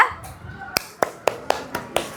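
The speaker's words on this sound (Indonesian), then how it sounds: "Tepuk tangan untuk kelompok 3" Classroom applause for a student group, several sharp claps spaced at an irregular, slowing pace after a brief murmur of voices, close and fairly loud.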